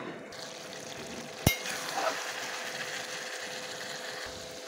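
Rooster meat fries in a covered pan on a gas stove at low flame, giving a quiet steady sizzle with one sharp clack from the pan or lid partway through.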